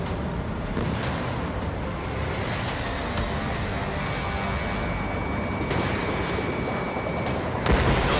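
Fighter jet firing weapons in Ace Combat 7, a sustained roar of engine and booming fire with a steady drone throughout and a sharper thump near the end.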